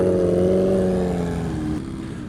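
Steady wind roar and engine drone on a 1000cc sport motorcycle fitted with Michelin Pilot Road 3 tyres, loud and continuous, with a humming engine tone that eases slightly before the sound drops near the end.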